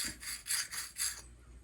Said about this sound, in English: you can use the deburrer like this to run around in there to get the burrs off the inside